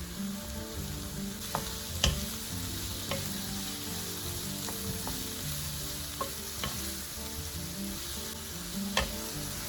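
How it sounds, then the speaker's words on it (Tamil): Sliced mushrooms seasoned with salt and pepper sauté in a pan for a white-sauce pasta, giving a steady close sizzle with a few sharp clicks of stirring spread through it and no talk. "இப்போ மஷ்ரூம் கூட ரொம்ப வதங்கணுன்றது இல்லை, ஒரு அரைவாசி பதத்துக்கு வதங்கினா போதும்"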